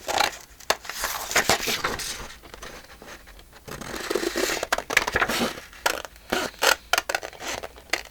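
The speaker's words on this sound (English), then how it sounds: "I'm going to trim it with my scissors." Scissors trimming a paper Christmas card being made into a notebook: a series of close, crisp snipping and crunching cuts, some quick and clustered, others spaced apart, with no talking.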